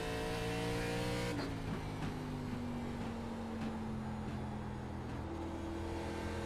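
An ARCA stock car engine in the iRacing sim holds a steady loud drone on throttle through the middle of turns one and two, pitch sliding down slightly after a brief shift early on, with no talk over it.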